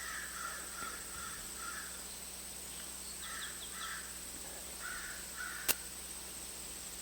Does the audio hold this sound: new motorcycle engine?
no